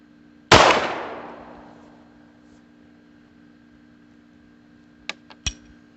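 A Beretta U22 Neos pistol fires one loud, close shot that rings down over about a second, then a few small metallic clicks follow.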